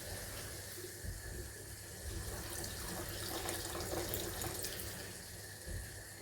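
Water runs steadily into a cooking dish in a home kitchen, a continuous splashing flow lasting several seconds at moderate level with no speech.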